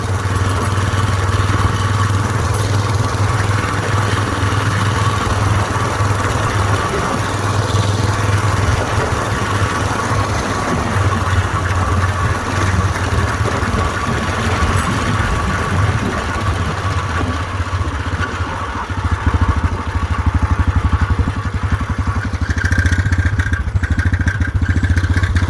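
A Whizzer motorbike engine runs loud and close with a steady buzzing clatter while the transmission is shifted, the pitch dipping and rising as gears change near the end.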